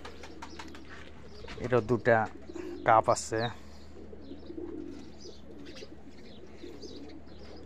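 Pigeons coo softly in the background while someone talks over them, with a few short louder calls standing out near the start.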